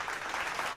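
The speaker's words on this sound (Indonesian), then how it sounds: "Boleh dong kita sambut dengan tepuk tangan yang meriah nih untuk Bapak Ono." A short burst of steady applause from a webinar audience, a dense patter of clapping at moderate level that cuts off abruptly.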